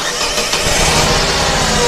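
A car engine with a cracked block cranks and catches, turning into a loud, rough, dense roar up close that fills the short stretch without a break.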